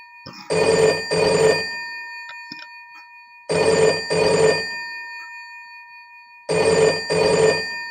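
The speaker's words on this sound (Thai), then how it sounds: "เราก็จะได้ยินเสียงการแจ้งเตือนนะครับ" An Android server-monitoring app sounds its downtime notification: three separate bursts of a double-pulse ringing tone, evenly spaced and clear, with nothing else audible.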